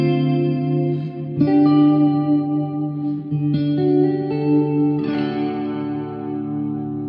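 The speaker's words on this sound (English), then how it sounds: "This is a whammy for really creating movement and kind of ambient sounds" An electric guitar with an aftermarket Jazzmaster-type tremolo arm sustains chords while the whammy bends them in slow wavering pitch shifts, a loud, effects-laden ambient wash with echo and chorus, no voices.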